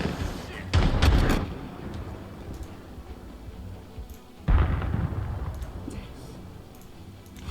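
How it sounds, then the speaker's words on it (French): Gunfire strikes the player in the video game Project Evasion: two heavy, booming impacts about four seconds apart, each followed by a rumbling decay under a constant low game ambience. "Qui c'est qui me tire dessus?"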